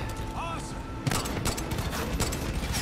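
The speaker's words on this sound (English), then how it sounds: "I'm getting shot from the right, too" A sudden burst of rapid, crackling gunfire in Far Cry 5 erupts and keeps going, with shots overlapping under a noisy game soundscape.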